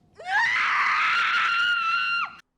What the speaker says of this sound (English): Of course she's going to scream, anyone would